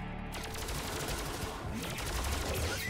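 Rapid gunfire in the video game Death's Gambit, a fast continuous stream of shots at low volume under game sounds with no voices.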